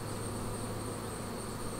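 Bees buzz steadily around a Flow Hive during a honey extraction, a continuous close insect hum with no talking.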